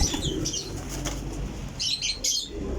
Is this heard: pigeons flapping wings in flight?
yes